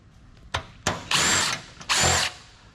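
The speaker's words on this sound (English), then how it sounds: "I just unscrew everything." A power drill unscrews screws from an old Hewlett Packard PC during scrapping, with short clicks and brief whirring bursts followed by two longer, louder drill runs, close up with no talking.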